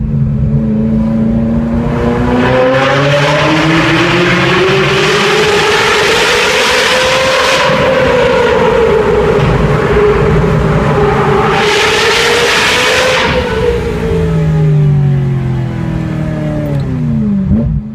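A Ferrari F355 engine revs loudly and continuously, pitch climbing and falling through two big surges before settling, with no talking.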